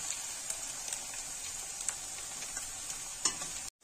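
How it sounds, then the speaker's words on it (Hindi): Ginger and spices frying in a pan for aloo palak, a continuous soft hissing sizzle with faint crackles, ending abruptly. "सभी चीजें अच्छी तरह से मिक्स कर देंगे और इसे 1-2 मिनट के लिए फ्राई करेंगे"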